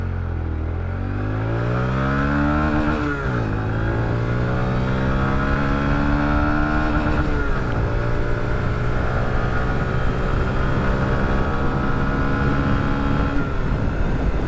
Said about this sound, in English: For a stock bike, stock exhaust, stock air filter, stock sprockets, everything, man, this thing runs good.